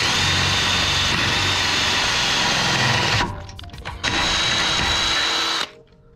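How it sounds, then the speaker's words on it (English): A power drill boring a pilot hole with a bit smaller than 7/16 inch in a drift boat trailer whirs steadily close by, briefly dips in the middle, then resumes before stopping near the end. "I'm gonna use a 7/16 drill bit so I can fit this bolt"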